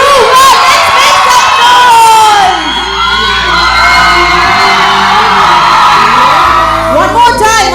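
An audience at a show shouts and cheers loudly to welcome a guest, a dense roar of excited voices and whoops that swells and holds for several seconds, with children's shrieks standing out near the end.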